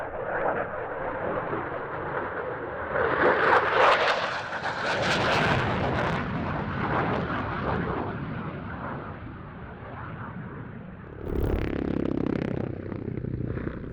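A Saab Gripen E fighter jet with an uprated engine roars at a military airshow: a loud, continuous broadband jet rumble that swells around the third to fifth seconds, with a sharp, heavy burst near the end.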